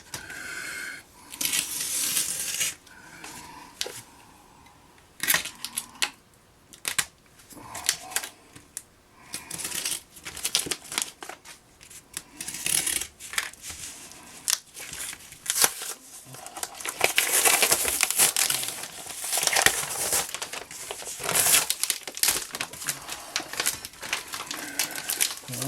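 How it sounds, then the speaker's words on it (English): Plastic wrapping crinkles and crackles around a packaged boat center console part as it is unwrapped by hand, in irregular bursts of rustling and tearing with short pauses between, close and moderately loud. "I will unwrap the other one"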